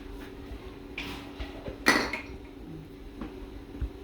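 Egg halwa is stirred in a pan as cardamom powder goes in: scattered metallic clinks and scrapes of a spoon against the pan, with one sharper knock in the middle, fairly quiet overall.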